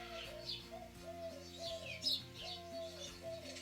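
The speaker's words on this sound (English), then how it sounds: "these birds are driving me nuts. I may have to maybe close the door." Birds chirping and cooing outside an open door on a hot day, a steady run of repeated calls carrying through the whole stretch at moderate level, with no voices.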